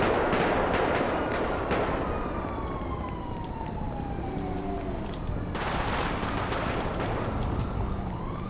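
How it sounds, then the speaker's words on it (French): A 9 mm handgun fires in a video game while the shooter drives, giving sharp repeated shots over steady engine roar and wind noise, with a siren-like tone sweeping through. "ce qu'on entend, c'est le David qui tire en roulant au 9 mm."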